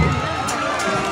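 A stadium audience at a municipal marching band championship applauds and cheers, a dense continuous wash of crowd noise that stays loud and unbroken throughout.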